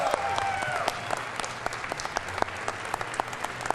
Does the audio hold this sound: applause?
yes